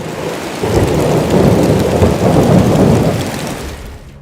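Heavy rain pours steadily through a jungle at night, with deep rolling thunder swelling beneath the dense hiss of the downpour, loud and continuous with no voices.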